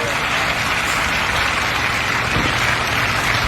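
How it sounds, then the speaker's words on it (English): A studio audience claps steadily in the background, a dense, even wash of many hands running throughout without pause. "the people that you heard clapping in the background"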